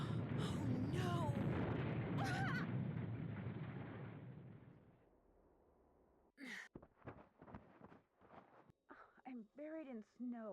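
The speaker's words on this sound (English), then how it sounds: "Sounded like an explosion. Sound like an explosion. Yeah, it's a fucking avalanche." A heavy avalanche rumbles in a video game, a loud dense roar that swells then fades over about five seconds, followed by a person talking and gasping.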